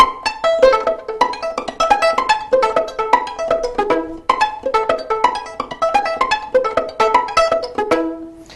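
Violin plucked rapidly in a left-hand pizzicato variation from Paganini's 24th Caprice, crisp repeated notes in steady rhythmic phrases, close and fairly loud, played alone.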